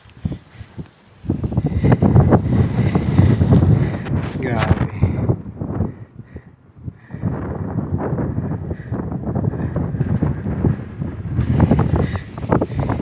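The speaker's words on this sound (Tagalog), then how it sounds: "Lakas ang hangin." Strong wind on a rocky mountain hiking trail at Mt. Nagpatong in Tanay, Rizal buffets the microphone in loud, rumbling gusts throughout, with a person talking over it.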